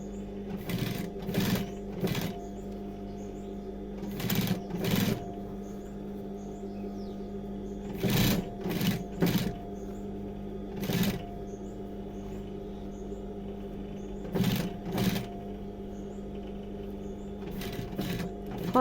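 A domestic sewing machine stitches a denim jeans leg with ordinary thread, running in short, loud, close bursts of rapid mechanical chatter separated by quiet pauses and a low steady hum.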